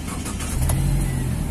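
A used car's engine cranks and catches into a steady low idle, close up during an engine check and loud throughout.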